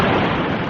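A heavy, sustained cannon blast from a 1589 naval battle off La Coruña, rendered as a dramatic sound effect: a loud, dense rumbling boom filling the whole moment, with no speech.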